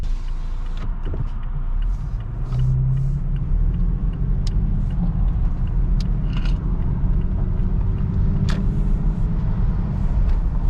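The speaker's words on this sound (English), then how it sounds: "I barely pushed on the gas and it was like trying to like skip gears" A Toyota Tacoma pickup accelerates gently from inside, its engine a low steady rumble with a rising drivetrain whine and occasional clunks and ticks suggesting a gear-skipping fault, no speech.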